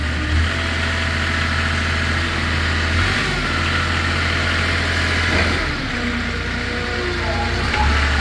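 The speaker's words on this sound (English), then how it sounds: "Side shift. Outriggers. Mast going in and out." A 2018 Princeton PB55.3 truck-mounted piggyback forklift runs steadily as its mast moves in and out, a loud continuous engine and hydraulic drone with slight shifts in pitch, close by, no talk.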